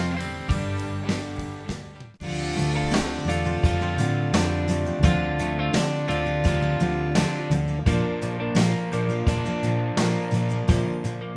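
Band-in-a-Box Real Pack Rock 2 style demo of a full rock band, with drums, bass and guitars playing a loud, steady groove after a brief break near the start.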